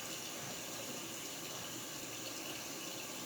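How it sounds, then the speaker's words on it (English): Tap water runs over chicken wings as they are rinsed, a steady, even hiss and splash of faucet flow, close and unbroken, with no voices. "Rinse them off with any debris."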